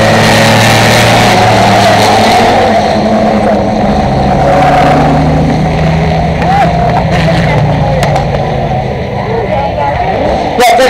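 A 1952 Ferrari Formula 1 car roars past at a historic racing event, a loud revving growl rising and fading, with crowd noise and a voice over a loudspeaker in the background.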